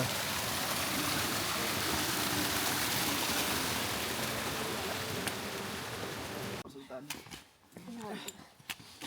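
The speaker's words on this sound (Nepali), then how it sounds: "झरना" Steady rushing water fills the scene for several seconds, loud and broadband like a nearby waterfall on the Mardi Himal trek in Nepal, then cuts away to quieter sounds with voices.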